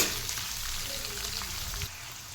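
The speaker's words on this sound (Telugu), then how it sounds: "ఉల్లిపాయలు కలర్ చేంజ్ అయ్యేంత వరకు ఫ్రై చేసుకుంటే సరిపోతుందండి" Thinly sliced onions fry in a pan for an ivy gourd (dondakaya) stir-fry, giving a steady soft sizzle that is close and moderately loud, with faint stirring scrapes and no talk.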